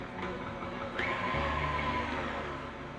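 An electric mixer runs on low speed as powdered sugar is added for royal icing, a steady close motor hum whose pitch shifts slightly partway through, with no talking.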